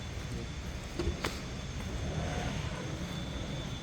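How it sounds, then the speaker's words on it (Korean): A motorcycle engine passes along a city street at night, a steady mid-distance drone that holds for about four seconds, rises slightly in the middle and then eases away, with a couple of faint clicks from the street around it. "저기 모터사이클. 자, 오토바이 소리죠."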